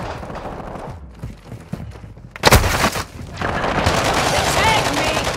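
Gunfire from the video game Call of Duty Modern Warfare erupts in a sudden loud burst, followed by sustained rapid shooting amid combat noise, with scattered shouted voices in the mix.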